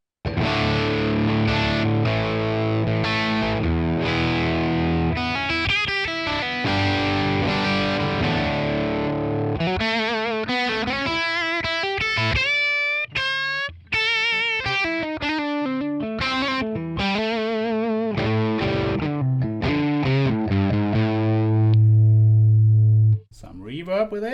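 A Les Paul electric guitar plays through a ToneX ONE Amp KIT II crunch capture with no reverb: loud, dry overdriven chords and single-note runs, strummed and picked continuously, ending on a held low note.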